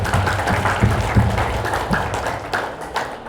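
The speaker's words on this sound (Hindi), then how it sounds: "तो हाथ ऊपर करना है कि ताली बजानी है?" An audience at a talk on married life and parenting claps together, a dense continuous wash of applause with a few sharper individual claps standing out, no speech over it.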